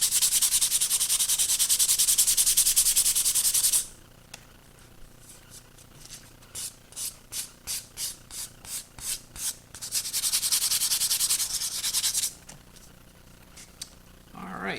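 Loud continuous sanding strokes on a plastic scale model P-40 wing rasp for several seconds, then a quick run of short back-and-forth rubs, followed by another long sanding pass.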